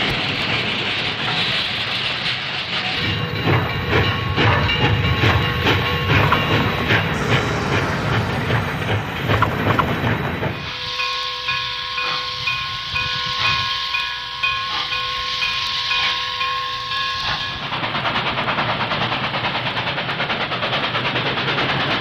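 New York Central steam locomotive 2886 backing up in Greensburg rumbles and hisses with rhythmic chuffing, then a long sustained whistle or steam tone holds for several seconds before the chugging resumes.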